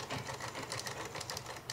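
A sewing machine stitching lace onto a dupatta chatters steadily and rapidly up close, a continuous fast mechanical whirr with quick needle ticks and no voices over it.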